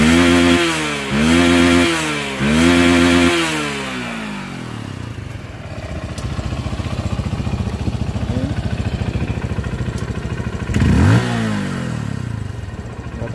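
A motorcycle fitted with a Juken 5 CRF exhaust, tuned with a limiter, revved three times in quick succession, then settling into a steady, rough idle with one brief blip near the end.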